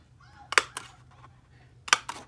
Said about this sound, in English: so I've punched my holes